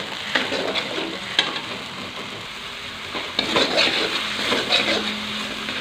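Balinese spice paste with tomato, bay leaves, lime leaves and galangal sautés in a pan, a close, busy sizzle broken by frequent stirring scrapes and occasional utensil knocks, with no voices.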